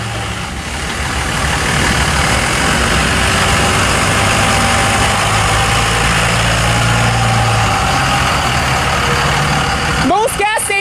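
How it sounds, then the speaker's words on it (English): A diesel engine idles nearby with a steady low rumble and chugging throb, then a brief sharper mechanical sound near the end. "like that diesel engine right there"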